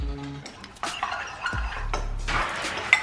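Spicy noodles being mixed in a bowl with utensils, close clinks and scraping strokes that come in a few uneven bursts.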